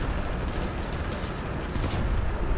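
High-explosive tank shell fire and its blast roar in War Thunder, from a KV-2 tank, as a loud, dense, sustained rumble with no voices.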